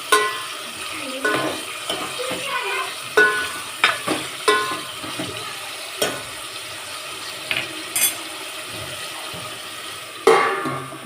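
Green chilli chutney ingredients being stirred together in a pan, a run of soft scraping clicks and knocks with a light wet sizzle underneath, spaced irregularly and close by.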